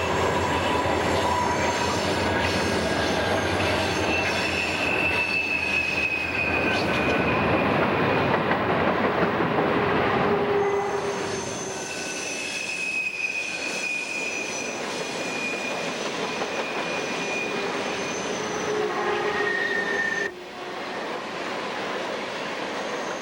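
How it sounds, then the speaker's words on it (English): An empty coal train drifts downgrade on a steep high-altitude mainline railroad, its wheels squealing in long sustained high-pitched tones over a steady rumbling roll of cars, loud and continuous throughout with no talking. "Off around the bend we hear a train and this time it's an empty coal train drifting down grade."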